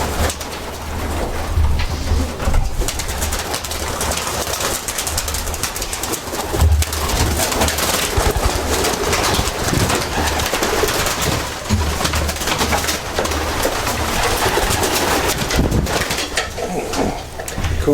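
Racing pigeons coo at a loft, a continuous soft throaty cooing from several birds mixed with dense rustling and background rumble, fairly close and without speech.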